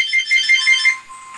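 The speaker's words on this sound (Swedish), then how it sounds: "där ringde det" Telephone ringing, a short burst of rapid trilling electronic rings, close and fairly loud, fading out after about a second.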